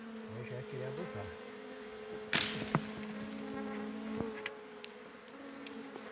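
Bees buzz during a honey harvest, a steady droning hum close by with a sharp clatter partway through and a few faint knocks afterward, no talking.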